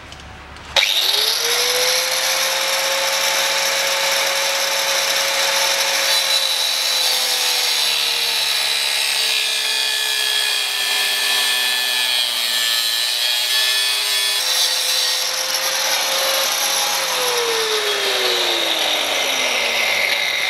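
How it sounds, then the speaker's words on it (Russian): Steady, loud cutting of a steel subframe mounting stud on a 2007 Mazda 6, a continuous high abrasive whine with a slowly shifting pitch that runs for nearly the whole stretch, close by and without talk. "Зачистил ее, теперь подрежу маленько."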